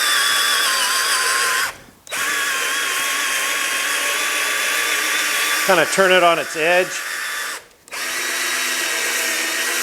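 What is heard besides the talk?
electric drill spinning a scuff pad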